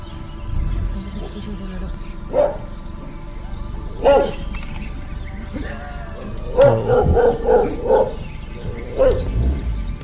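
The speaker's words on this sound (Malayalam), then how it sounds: "പട്ടി ഓടിച്ചു അതിനെ" A dog barks in scattered sharp bursts, some in quick clusters, while chasing off an animal near a forest area in Masinagudi, with low rumbling background noise throughout.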